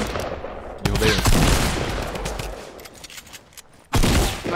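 Gunfire in a Fortnite Battle Royale match, with a few loud, sharp bursts of automatic shots separated by quieter stretches of game ambience.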